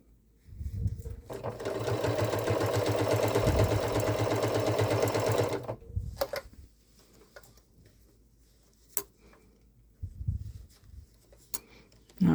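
A sewing machine stitches the cuff of a Christmas stocking, sewn in a loop with a 3/8-inch seam, running in one loud, steady rattling burst of several seconds before stopping, followed by quieter handling sounds and small clicks.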